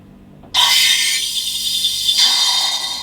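Espresso machine steam wand set too far to the side of the milk jug, giving a sudden loud, harsh hissing roar that starts abruptly and holds steady for about two and a half seconds, with no talking.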